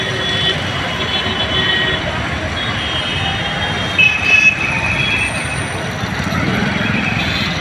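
Steady roadway roar of vehicles passing on the Mumbai–Nashik highway, with trucks and a brief horn toot midway, continuous and fairly loud with a faint voice in the background.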